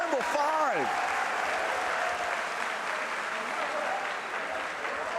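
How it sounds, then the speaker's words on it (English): A wrestling crowd at an MLW Symphony of Horrors show applauds and cheers in a broad, sustained roar. A voice is heard briefly at the start before the noise continues evenly, loud and unbroken. "The crowd loving it as well"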